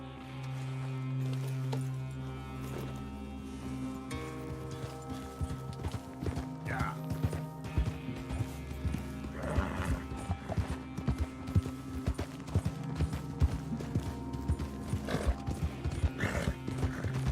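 Horse hooves clip-clopping in Red Dead Redemption 2, a steady close trot of hoofbeats with a brief whinny, under a droning game soundtrack and some talking.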